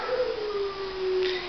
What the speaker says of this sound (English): that's Wendy on the entrance howling. She wants out